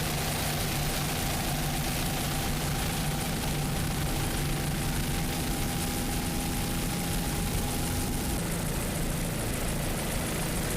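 A steady, droning pace boat engine at an offshore powerboat race hums loudly throughout, an unbroken mechanical roar with no voices.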